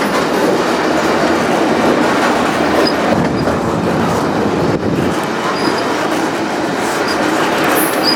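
A freight train rolls along the tracks in open Wyoming country, heard from close by the engine as a loud, continuous rumble with clickety-clack and faint wheel squeal.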